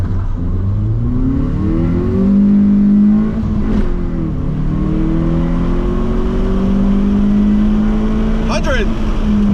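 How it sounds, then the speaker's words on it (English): Mitsubishi Lancer with a 1.8 litre 4G93 engine and no air filter accelerating hard from 0 to 100, revving up through the gears with audible shifts, loud from inside the car. "0 to 100 in the 4G93 Lancer."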